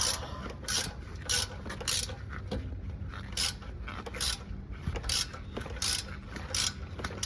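A socket wrench ratchets on a rear sway bar bushing bolt of a Toyota Land Cruiser 100 Series, quick clicking bursts in a repeated back-and-forth rhythm, close and clear with brief pauses between strokes.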